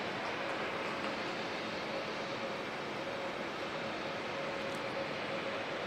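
Airliner taking off on a foggy morning at Auckland Airport, a steady broadband jet roar with a faint sustained tone, continuous and unchanging at moderate distance, with no voices.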